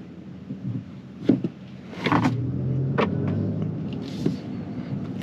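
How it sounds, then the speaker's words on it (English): A 2024 BMW i5 M60 electric car plays its synthetic acceleration sound, a low futuristic hum that swells and holds as the car pulls away, mixed with a few clicks and cabin knocks, no voices. "it has like this little rev sound."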